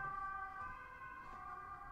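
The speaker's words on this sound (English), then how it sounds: "Sirens, please." A steady wailing siren in Kingdom Hearts III, sustained tones holding fairly level over the whole stretch, heard alone without voices.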